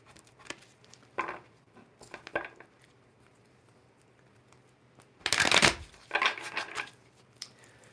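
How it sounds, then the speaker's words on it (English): A deck of tarot cards is shuffled at close range during a live reading, with soft riffling patters early on and a loud, dense burst of card shuffling near the middle followed by a few shorter riffles. "Shuffle these cards here."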